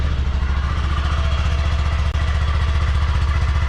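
A stock-exhaust Honda Grom motorcycle idles after a cold start, its small engine putting out a quiet, even, rapid putter close to the microphone with no talking.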